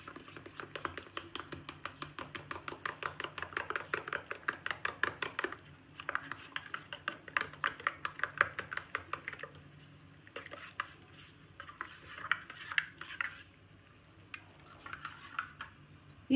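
Ragi flour mixed with buttermilk is stirred into boiling water on a stove for a ragi drink. A spoon scrapes the pot in a steady, quick rhythm, close and clear, with pauses and softer stirring toward the end and no talking.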